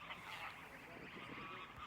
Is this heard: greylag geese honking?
yes